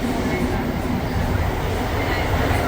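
A Montreal metro train running at 1:00 am between Montmorency and Lionel-Groulx stations, heard from inside as a loud, continuous rumbling roar with steady rail noise throughout.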